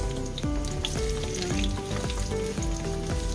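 Sliced ginger frying in a pan until browned, a steady close sizzle running throughout under faint background music, with no voices.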